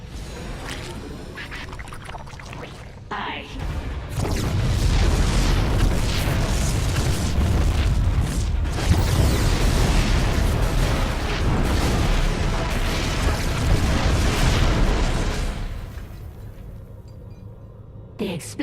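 Dense, sustained rumbling blasts and booms in StarCraft II: Heart of the Swarm roll on for several seconds, loud and continuous, with a voice speaking at the start before the din fades out.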